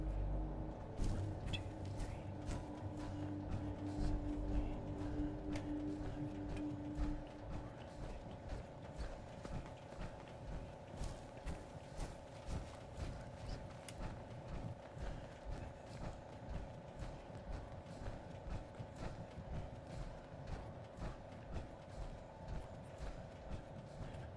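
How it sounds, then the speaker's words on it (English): A player character's footsteps in the video game Fallout tap out a steady, quick rhythm of soft repeated steps for a long stretch, over a low droning hum, with a louder rumbling stretch at the start. "So I'm going to try to hear my footsteps."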